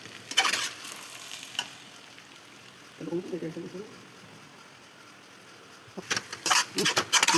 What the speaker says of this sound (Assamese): আমি কম কমকৈ দি ভাজিব লাগিব।